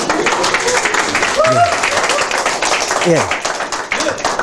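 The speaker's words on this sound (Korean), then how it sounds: "박수 한번." Audience at a Korean lecture-style talk show breaking into clapping, steady applause under a voice speaking.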